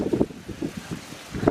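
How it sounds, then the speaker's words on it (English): Strong wind gusts rumble and buffet the microphone outdoors beside a hotshot trucking rig and tractor load, in pulsing low bursts with no speech. "it's so windy out here"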